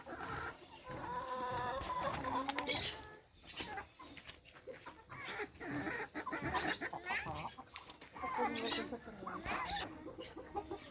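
Farm hens clucking in a busy, overlapping chorus at close range while being given water, with a person's voice calling to them now and then.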